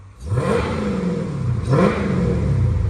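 Close-up 2020 Dodge Challenger Scat Pack engine revving in two bursts, the roar climbing, easing slightly, then surging again before holding at a strong, steady drone.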